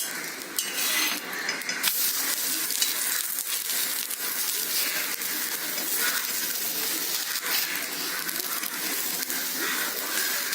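Thin slices of raw banana cook on a hot tawa, giving a steady, broad sizzle with faint scraping and clinking of a utensil against the pan throughout, close and continuous with no talking.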